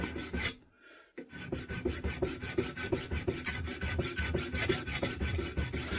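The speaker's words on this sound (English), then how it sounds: "we're filing it down, look" A metal file rasps rhythmically against the shaft of a new BTH magneto on a Crossley engine, steady close strokes repeating after a brief pause near the start, with no talking.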